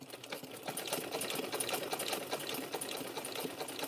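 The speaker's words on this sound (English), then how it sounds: "If I can get my sewing machine going." A sewing machine stitching through rope runs in a steady, rapid mechanical chatter, close and continuous for the whole stretch.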